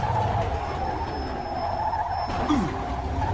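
A car in the video game Mafia 2 running on a burst tire, a steady loud engine drone with a short skid near the end, a faint high whine running underneath.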